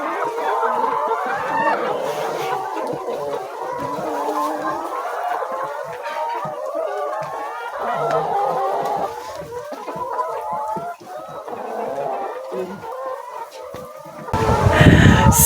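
A flock of chickens clucks and squawks continuously, close and busy, with a rooster among them, and the noise swells louder near the end.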